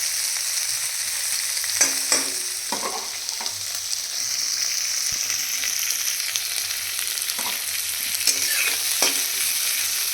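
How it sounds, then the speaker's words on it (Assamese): Capsicum frying in a little leftover oil that had earlier been used for brinjal, cooked on a gas stove for a Magh Bihu meal. Steady close sizzle runs throughout, with scattered scrapes and clinks from stirring. "সেই তেলখিনিতে মই কেপচিকামখিনি ফ্ৰাই কৰি দিছোঁ"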